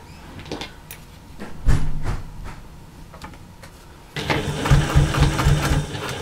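A sewing machine runs a short back stitch on a slouchy bag, its motor hum shifting in pitch and rising louder partway through as it reverses across the seam, close by with no talk.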